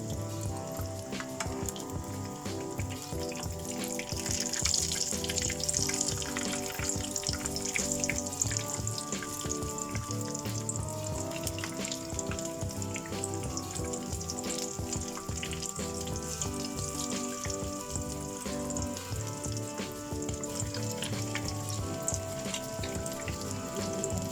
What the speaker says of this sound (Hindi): अब ये गोल्डन होने तक इसको फ्राई करना है, फिर फ्लिप करके दूसरे साइड भी इसको फ्राई करेंगे।